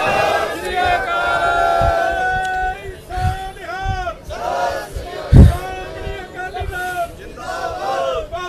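A large crowd at a Punjabi political gathering roars back in unison to a Sikh call, a loud sustained chorus of voices with a sharp thump midway and ongoing shouting.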